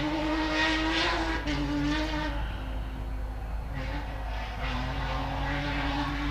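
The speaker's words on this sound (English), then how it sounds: "you can hear the screaming V6 of Luke Urseg." A V6 race car in a SGORA 200 Sunday race screams in the background, its high sustained engine note rising and falling steadily over a loud, continuous track roar.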